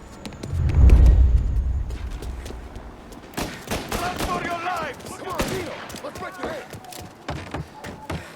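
Gunfire rings out in the Mafia Definitive Edition video game: a loud burst of shots up close, followed by game characters talking and shouting over scattered further shots.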